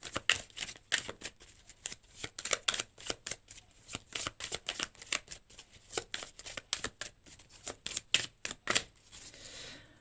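Cards being shuffled during a tarot reading, fast crisp riffling and snapping in repeated bursts, close and fairly loud, with no talking.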